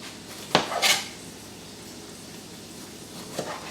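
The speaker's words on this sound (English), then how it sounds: "we're going to quickly cut up our tomatoes" A knife slices thin rounds of tomato on a cutting board: a couple of crisp taps and a short scraping cut close together, then a lone soft knock after a quiet pause.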